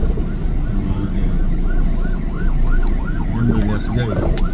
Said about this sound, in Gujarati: એમ્બ્યુલન્સ ગઈ.